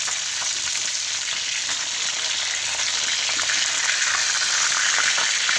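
Home-cooked Filipino dish frying in hot cooking oil, a loud, steady, close sizzle with fine crackling throughout and no pauses.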